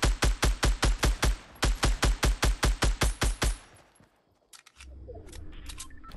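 Scar legendary assault rifle in Fortnite firing a rapid run of about sixteen loud, evenly spaced shots in two bursts, followed by quieter game sounds.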